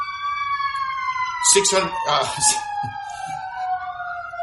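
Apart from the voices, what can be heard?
ambulance siren passing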